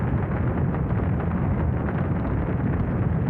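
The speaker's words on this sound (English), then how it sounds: "6, 5, 4, 3, 2, 1, 0. Ignition." Apollo 13 Saturn V rocket igniting and lifting off, a loud, continuous low-frequency roar and rumble that stays steady and dense throughout with no pauses or voices.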